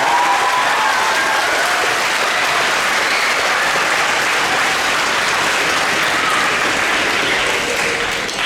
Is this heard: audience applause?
yes